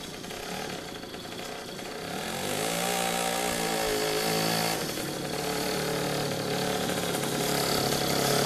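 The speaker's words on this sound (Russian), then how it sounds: "Мотор D6." A Riga 13 moped's D6 engine runs close by, a steady buzzy two-stroke drone that rises in pitch and loudness around the third second as it revs, then holds high with slight wavering.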